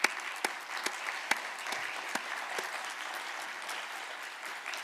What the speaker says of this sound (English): let's just give them a round of applause and thank them